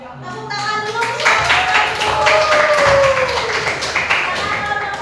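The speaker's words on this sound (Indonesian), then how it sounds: "Tepuk tangan dulu." Applause from a class of seventh-grade students for a group that has just presented, a burst of clapping under a teacher's voice speaking nearby.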